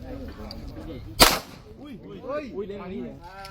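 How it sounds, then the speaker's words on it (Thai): One sharp gunshot fired at a bulletproof plate on a shooting range cracks out loudly, followed by quieter background voices. "แนวยิงพร้อม แนวยิง เริ่มยิง"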